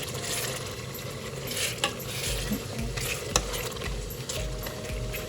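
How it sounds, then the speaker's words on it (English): Tomato with ginger garlic paste sautéing over a medium flame, a continuous sizzle with repeated scraping stirs and occasional utensil clinks, close and moderately loud, no speech. "Now I'm going to saute it over medium flame"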